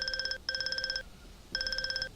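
A mobile phone rings with a bright, rapidly pulsing electronic ringtone, sounding in three bursts with short gaps, loud and close with no talking over it.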